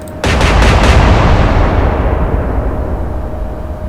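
A naval gun salvo from a warship in the Atlantic Fleet video game fires with a sudden loud boom, followed by a long, heavy rumble that slowly fades over several seconds.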